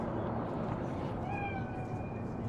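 A cat meows in Cyberpunk 2077, a short drawn-out mew rising partway through over a steady bed of game ambience and low background noise, fairly faint.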